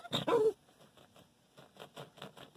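A dog gives two loud sharp barks up close, then a run of softer, rhythmic whimpering yips follows.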